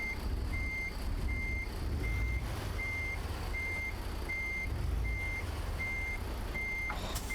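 Truck reversing alarm from American Truck Simulator while backing a trailer into a parking spot, a steady run of evenly spaced high beeps over a constant low engine rumble.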